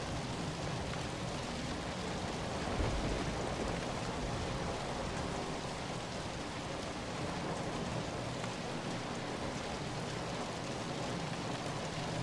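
Heavy rain falls in a dense, unbroken hiss that stays constant and fairly loud throughout, with no voices or other sounds.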